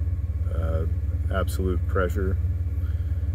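A 1991 Ford F150 with the 4.9L inline-six idles at about 700 RPM, a steady low rumble running continuously beneath someone talking.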